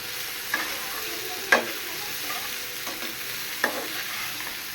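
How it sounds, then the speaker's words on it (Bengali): Potato pieces fry in a pan with ginger garlic paste, turmeric, chilli and cumin powder and salt, giving a continuous close sizzle with a few sharp knocks of a spoon stirring against the pan. "আলুটা একটু ভাজার পরে আমি অল্প একটু আদা রসুন পেস্ট হলুদ মরিচের গুঁড়া জিরার গুঁড়া আর লবণ দিয়ে এটাকে একটু ভেজে নিতেছি"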